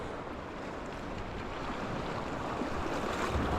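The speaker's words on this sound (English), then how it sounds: "A few waves coming in." Choppy ocean surf washing against a rocky shoreline in early morning, a steady broadband wash of water and wind that builds slightly louder toward the end, with no voices.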